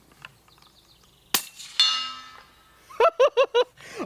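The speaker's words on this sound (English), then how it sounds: "Shoot some steel." Rifle shots from a Ruger American crack out, then steel targets ring back, ending with a quick run of four sharp metallic clangs. A brief tonal ring hangs between the shots.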